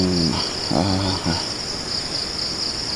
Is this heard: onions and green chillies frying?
no